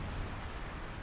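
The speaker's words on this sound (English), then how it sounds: "artillery called in again on the machine gun bunker" Artillery lands during a Company of Heroes 2 match: one second of dense, rumbling blast with heavy low boom and crackle, moderately loud and steady throughout.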